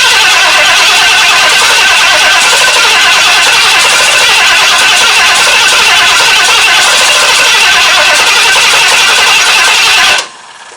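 A Ford Dentside shop truck engine cranks and tries to catch, a loud, continuous, rough churning that cuts off abruptly near the end.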